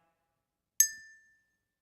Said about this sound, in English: My first object I picked for you tonight, Lindsay, is a bell